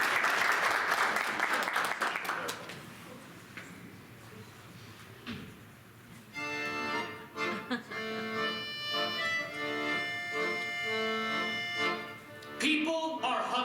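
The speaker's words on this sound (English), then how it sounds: "let's give our company for Your Story on Stage a big round of applause to welcome them" Theater audience applause welcoming a performing company on stage, dense clapping for the first couple of seconds that thins and fades, followed by quiet and then a piano-like musical passage.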